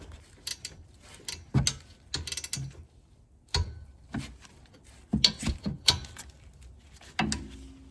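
Ratchet wrench tightening the rear brake bolts on a 2017–2023 Subaru Impreza: short bursts of close, sharp clicking pawl ratchets separated by brief pauses, loud and mechanical with no talk.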